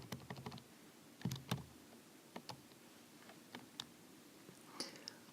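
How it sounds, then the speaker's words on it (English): Keys on a calculator are tapped in quick, light bursts of small clicks with short pauses between them, faint and close in a quiet room. "So I'm going to use my calculator real quick and just type in what I want."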